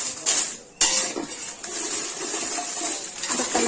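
Byadagi red chillies being dry-roasted without oil in a metal pan, with scraping and stirring clatter and light rattling of the dry pods, close and steady with no talking.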